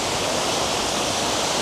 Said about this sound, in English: Here's one of the wee water fountains.